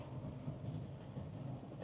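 A thunderstorm with heavy rain in a residential subdivision in Claremont, heard as a steady, dense wash of rainfall with low rumble beneath, constant and fairly faint, with no talking.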